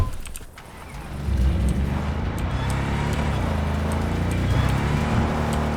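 A car drives in the video game Cyberpunk 2077, a low engine drone rising after a brief dip with rhythmic rolling thumps and occasional sharp clicks, no voices.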